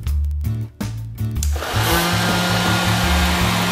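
Kitfort KT511-1 robot vacuum cleaner running on a floor, a steady loud whirring hum like a hair dryer with a low motor drone, starting after a few short clicks and stutters, no talking.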